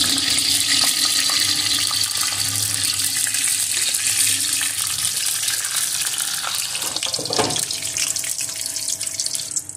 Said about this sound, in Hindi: अब इसके अंदर हम डालेंगे आधा चम्मच मेथी दाना।